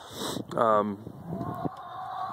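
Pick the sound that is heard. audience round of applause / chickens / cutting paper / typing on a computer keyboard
chickens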